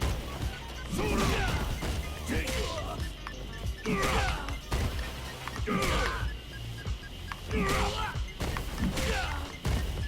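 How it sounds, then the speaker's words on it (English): Heavy punches landing in a Street Fighter game as the grappler Zangief, a series of sharp crashing impacts spaced about a second apart over a busy game background, loud and close. "That heavy punch sounds like it's reaching though."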